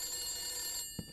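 A telephone rings in The Beast Inside video game, a steady, shrill bell tone that sounds for most of a second and then cuts off, followed by a soft low thump.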